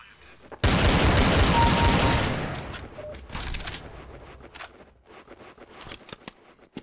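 Gunfire in Counter-Strike: Source: a loud close burst of rapid shots that rings out and decays, followed by sparser clicks and game noises.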